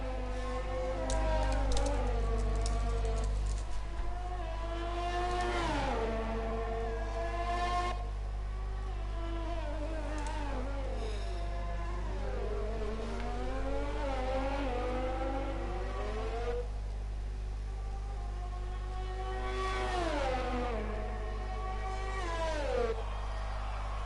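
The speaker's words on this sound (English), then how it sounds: "just appreciating a bit of the sound of the engine of the Haas" A Haas Formula 1 race car engine in a racing video game screams through gear changes, sweeping high-pitched revs rising and falling repeatedly over a steady low hum, continuous and without talk.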